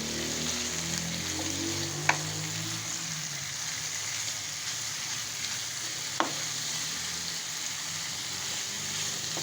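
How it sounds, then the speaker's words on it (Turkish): Diced chicken breast pieces sizzle and fry steadily in a pan, with a couple of sharp utensil clicks against it; no talking. "bundan sonra önce etimizi kavuracağız"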